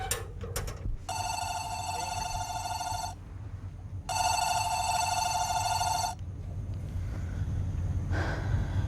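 An electronic telephone bell rings in two long bursts, each about two seconds, over a low steady background hum, with a faint breath or gasp early on.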